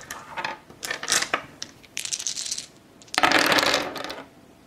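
Dice rattling and tumbling during a Target Earth board game, several uneven bursts of clattering on a hard surface, the last one the loudest and longest, close by and with no talk.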